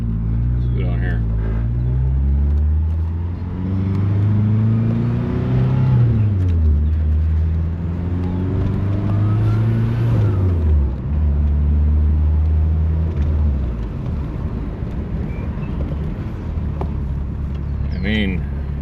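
An old sports car, back on the road after 35 years parked, drives along with its engine note rising and falling through gear changes, heard from inside with wind noise and some talk.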